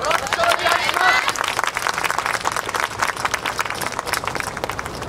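An outdoor audience applauds and claps at a festival in a central park just before a university dance team's performance, a dense, steady wash of clapping with voices mixed in throughout.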